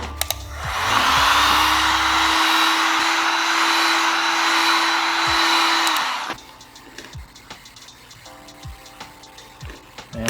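A heat gun blows a loud, steady hot-air whoosh while heating dirt bike graphics, running close for about five seconds before cutting off, leaving soft clicks and handling noises.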